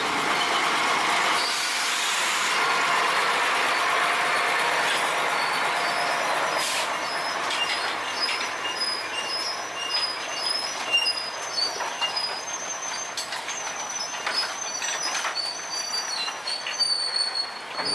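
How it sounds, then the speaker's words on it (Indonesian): A locomotive approaches pulling a string of empty sugar cane lorries at the Kedawung sugar mill in Situbondo, its rumbling wagons and high metallic wheel squeals growing steady and loud, with no talk over the continuous rail noise. "lokomotif semakin mendekat dan ternyata juga menarik rangkaian lori-lori kosong"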